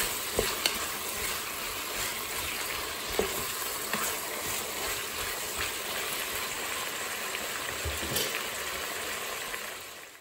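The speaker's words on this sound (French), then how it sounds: "Donc on va laisser les légumes cuire tranquillement pendant 5 minutes." Vegetables and red and yellow peppers sizzle and fry steadily in a Cookeo multicooker, a continuous close hiss with a few faint clicks of stirring.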